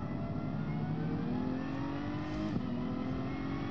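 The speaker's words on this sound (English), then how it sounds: "You've got the faster cars coming past." Faster race cars passing by in GT Sport during a practice session with a McLaren F1 and Ferrari 512, engines whining in a steady, moderately loud drone with a rising pass.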